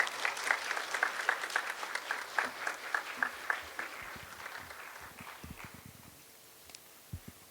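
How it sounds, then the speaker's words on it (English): A TEDx youth event audience gives the speakers a round of applause, with moderate clapping that thins out into scattered claps and stops. "I request the audience to give a huge round of applause for our speakers."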